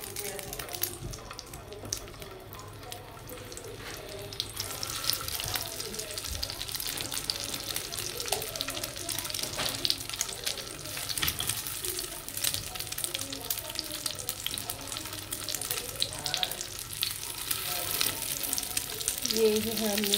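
Shami kababs fry in oil in a pan with a soft, steady sizzle that grows louder after a few seconds, while someone talks over the cooking.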